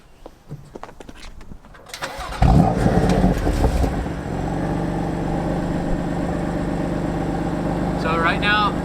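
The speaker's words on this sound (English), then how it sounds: "So I'm gonna show you what it sounds like when you start it up." Cold start of a BMW M2 Competition with its exhaust valves open: a sharp, loud bark fires up about two seconds in, then settles into a steady, throaty idle drone that continues to the end.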